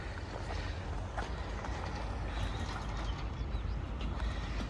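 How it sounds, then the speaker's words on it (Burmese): A train rolls along the mountain railway near Kalaw, Myanmar, giving a steady broadband rumble with faint wheel clatter that holds at an even level throughout, with no voices. "ဟိုးရထားလာနေ"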